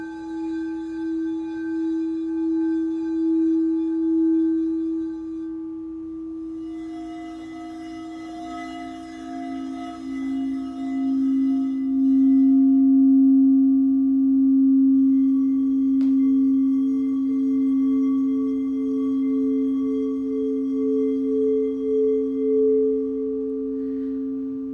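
A crystal singing bowl rings with a sustained pure tone that swells and layers into shimmering overtones, steady and fairly loud for the whole span, no talking.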